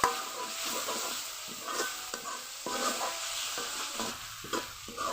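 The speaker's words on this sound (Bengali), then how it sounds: "ভালো করে কষিয়ে নিব।" Spiced chicken filling sautés in a pan with a continuous sizzle, broken by repeated rhythmic scraping strokes of a spatula stirring the mixture, close and without talk.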